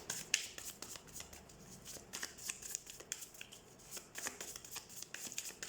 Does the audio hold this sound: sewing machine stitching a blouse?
no